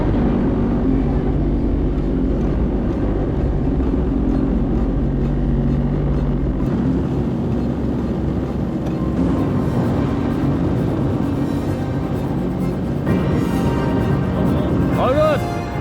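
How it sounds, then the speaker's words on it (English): A jet ski engine idles and runs steadily on the water near the Whitsundays, making a continuous loud mechanical drone with a slight shift in tone partway through, and no talk over it. "if you hold it down for 3 seconds, that is going to turn on your jet ski."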